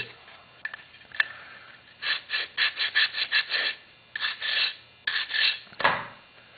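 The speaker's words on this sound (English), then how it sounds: "I have a sanding block that I've attached to sandpaper to my sanding block" Rhythmic rasping strokes of sandpaper on a block rubbed by hand, about a dozen quick back-and-forth passes in bursts, close and fairly quiet.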